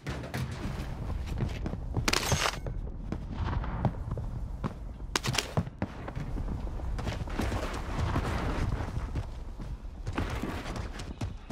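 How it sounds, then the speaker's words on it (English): Krig 6 rifle fire in Call of Duty Warzone, Cold War weapon, with dense rapid popping bursts and a couple of louder sharp cracks over busy game noise, moderately loud throughout. "Oh, the gun, it sounds so like nothing, but it hits so hard."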